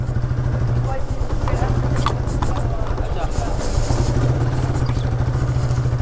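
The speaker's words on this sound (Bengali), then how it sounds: "মাটির রাস্তায় অনেকদিন যাবত বাইক চালাই না, একটু চালায় দেখি কি অবস্থা।" A motorbike rides along a muddy dirt village road, its engine a steady close drone with a pulsing low throb and some clatter, and it continues throughout.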